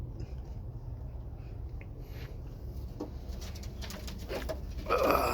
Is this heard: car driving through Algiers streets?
no